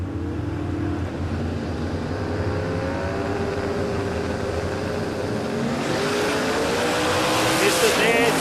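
A drag racing car at a radial shootout qualifying event roars down the strip, its engine note rising as it accelerates away, fairly loud with a commentator talking over it.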